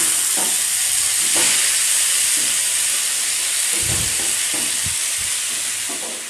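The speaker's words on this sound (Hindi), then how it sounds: "हम टमाटर को अच्छे से 1 मिनट तक उलट पुलट करके पका लिए हैं" Tomatoes cooking in a pan for a Bihari-style potato and jackfruit curry, a loud, constant hissing sizzle with soft thuds and scrapes from stirring underneath it, no voices.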